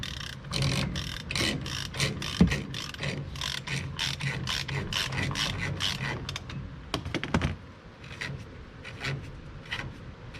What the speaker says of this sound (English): you just put the tool in, and you have to push it in to release the ratchet mechanism in there, and turn, and it'll actually take that nut loose